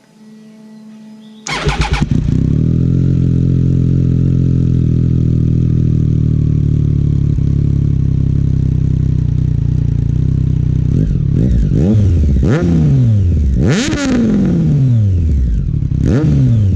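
A 2018 Triumph Street Triple R fitted with a Delkevic slip-on exhaust cranks over and fires, settles into a loud, steady idle, then snaps through several sharp revs that climb and fall back toward the end, with no talking.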